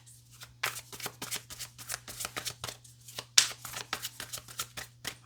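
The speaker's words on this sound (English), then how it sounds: "let's shuffle a little bit more and then cut the deck." A deck of tarot cards riffled and shuffled in a rapid series of soft, papery bursts, close up with no talking.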